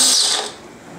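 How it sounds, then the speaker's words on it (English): A coffee grinder grinds beans with a loud, close whirring buzz that cuts off after about half a second, leaving a faint low rattle as it winds down. "So I'll go ahead and hit start and grind some beans."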